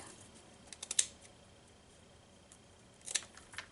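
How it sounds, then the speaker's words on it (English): Two quiet, crisp snips of scissors cutting glitter washi tape, one near the start and another a couple of seconds later, with near silence in between. "I'm going to take some of this glitter washi tape and just cut several pieces."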